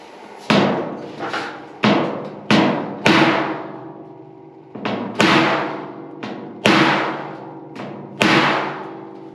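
Hammer blows on the steel bed of a 1954 Chevy 3100 truck during bodywork, about nine sharp metallic strikes at an irregular pace, each ringing briefly before decaying, with no talking.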